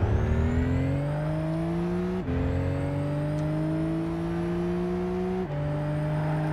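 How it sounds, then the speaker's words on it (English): Car engine in the Gran Turismo 5 racing game holding a loud, steady rising drone as it accelerates, broken by two quick gear shifts with short dips in pitch, and no talk over it. "That turbo hiss, though."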